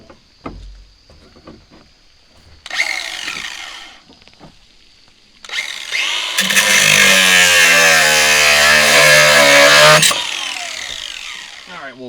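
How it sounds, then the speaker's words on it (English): A power tool cuts through steel rebar on a job building a small concrete pad form: a brief harsh burst, then a loud, sustained grinding whine of about four seconds that tapers off, with scattered handling knocks around it. "So we're going to go ahead and cut a little bit of rebar up."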